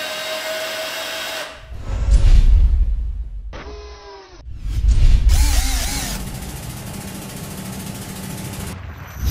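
A ROK 9.6v cordless drill driver runs in several separate bursts, each a loud whirring whine that spins up and winds down, with short pauses between runs and no talk.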